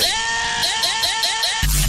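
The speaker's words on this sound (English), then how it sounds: "It's a goat!" A goat gives one long, loud, wavering bleat with a rapid pulsing tremble lasting over a second, then is cut off by a brief burst of noise.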